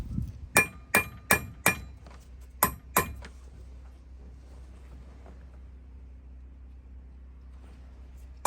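Hammer tapping a nut onto a Mercedes exhaust manifold: six sharp metallic taps in quick succession, close and loud, followed by quiet background hum.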